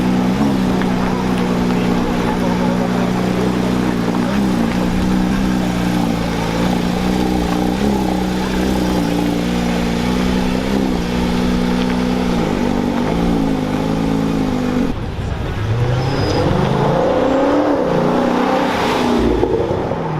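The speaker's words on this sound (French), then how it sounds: "On a la GT3 RS qui part." A grey Porsche GT3 RS with carbon trim pulls away at a gentleman driver event, its engine droning loudly and steadily before revving harder and sweeping up in pitch as it accelerates, with voices around it.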